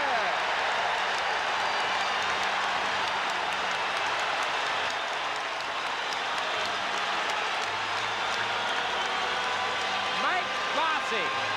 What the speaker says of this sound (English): Here tonight before a deliriously happy crowd at the Nassau Coliseum.